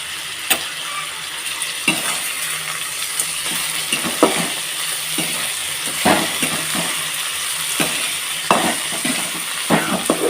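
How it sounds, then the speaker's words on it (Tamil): Tomatoes sautéing with onions in a pan for onion kuzhambu give a steady sizzle, broken by irregular spoon scrapes and clinks against the pan. "தக்காளியும் சேர்ந்து நல்லா வதங்கட்டும்"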